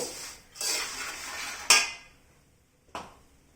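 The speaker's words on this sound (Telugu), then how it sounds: "తిప్పుకోవాలి మంచిగా కలవ తిప్పాలన్నమాట" Puffed rice snack with turmeric stirred in a metal pan: a sustained close scraping sweep, then a sharp metallic clank, quiet, and one more clank, with no talk.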